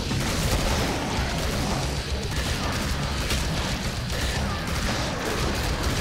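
Dense, continuous full-auto gunfire from the video game Killing Floor, loud booming bursts running together with no break across the whole stretch.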